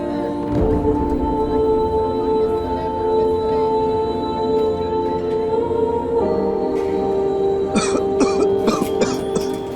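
Several coughs ring out over a steady hum of background noise, with a cluster of sharper, harsher bursts toward the end.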